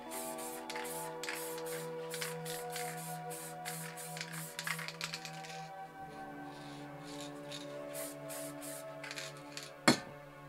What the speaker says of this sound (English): Just spray lightly around your lid stencil.